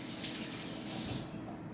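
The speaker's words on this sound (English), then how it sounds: "I'm gonna wash my hands real quick" Water runs steadily from a kitchen tap into a sink for hand washing, a continuous close splashing hiss that eases slightly toward the end.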